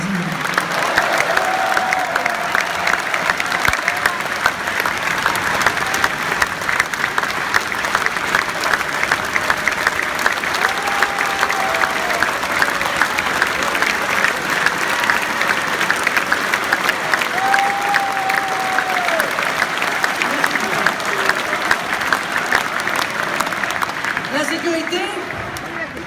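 A large crowd at a 2017 French presidential campaign rally in Paris applauds steadily for nearly half a minute, a dense, loud, even roar of clapping with scattered voices mixed in, easing slightly at the end.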